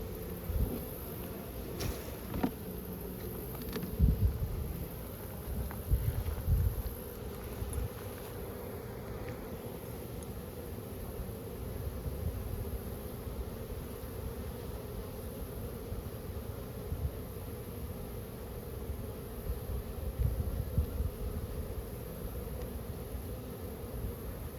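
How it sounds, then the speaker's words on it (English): Honeybees being scooped by hand into a new hive after removal from brickwork, a steady close buzzing drone with soft rustling throughout and no talking. "I'm just putting these handfuls of bees in their new hive."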